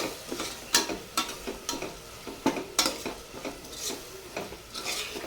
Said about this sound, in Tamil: சேர்த்துட்டு இதையும் நல்லா வதக்கி எடுத்துக்கோங்க